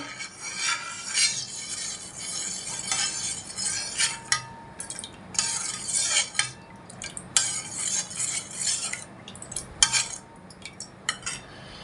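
Lemon juice being strained and stirred in a kitchen, with metal spoon clinks and scraping against a bowl or strainer in irregular bursts, close and fairly loud, without speech.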